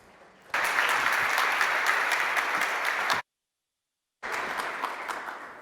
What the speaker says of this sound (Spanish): quiero darle la bienvenida con un aplauso